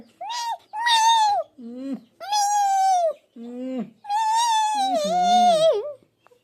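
A young child imitates a cat, making several drawn-out, close, loud meowing cries in a row, some rising and wavering like a plaintive cat.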